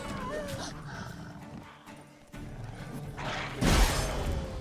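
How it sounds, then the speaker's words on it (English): Wolves in Witcher 3 growl and bark in a game fight, snarling at mid distance among combat effects, with a loud burst of action near the end. "now we find dogs that are unhappy with us again"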